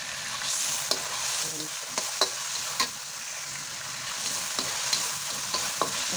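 Chicken breast sautéing with onion and garlic in a pan, a steady close sizzle with occasional sharp clicks of a utensil stirring against the pan, with no talk over it.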